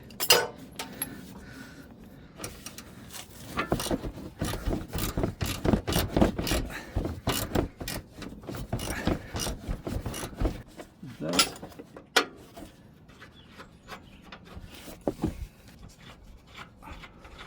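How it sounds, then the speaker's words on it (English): A ratchet works loose a bolt on a 2005-2012 Nissan Pathfinder 4WD front upper control arm, bursts of rapid clicking and metallic clinks close by, pausing between pulls. "now we can use that regular ratchet to open it"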